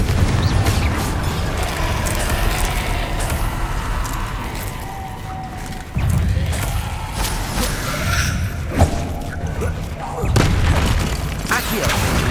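The Confringo explosive spell in Hogwarts Legacy lands as heavy booming blasts, two sharp new impacts striking amid continuous rumbling game effects and clatter.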